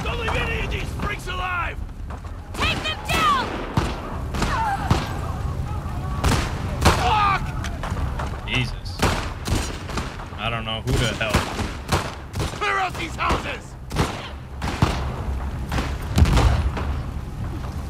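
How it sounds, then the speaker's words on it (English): A pipe bomb blast in The Last of Us Part II, amid rapid repeated gunfire cracks and booms, with a voice talking over the combat. "Random pipe bomb."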